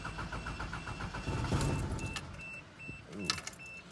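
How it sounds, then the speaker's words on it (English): A Toyota Land Cruiser FJ80 engine turning over after a fuel filter replacement, with the starter cranking rhythmically and the engine straining to catch while fuel is still absent, close by, with a brief jingle of keys. "now it's time to start the car. Let's see how it cranks"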